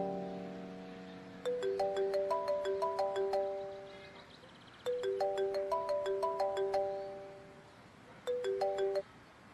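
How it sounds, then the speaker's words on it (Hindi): A melodic electronic phone ringtone plays in three bursts of rising tones, each a quick run of bright chimes, with short pauses between them. "आपका फोन बज रहा है"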